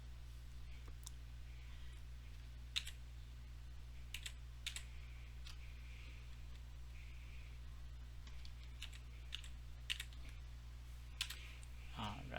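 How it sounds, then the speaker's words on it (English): A password typed on a computer keyboard: scattered light key clicks and taps at an irregular pace, fairly faint over a constant low electrical hum, with no clear speech. "if you want to type a password here, you can do that"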